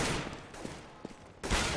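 Gunfire in a Counter-Strike match on the Overpass map, with a steady spray of rapid shots, a few sharper single cracks and a louder burst at the end, all fairly faint under a game background.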